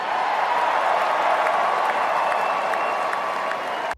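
A large crowd applauds and cheers continuously at a political event, a dense steady roar that cuts off abruptly at the end.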